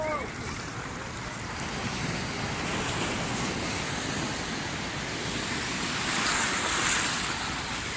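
Ocean surf rolls in at Himchori beach in Cox's Bazar, a continuous close wash of breaking waves with wind buffeting the microphone and a swell toward the end.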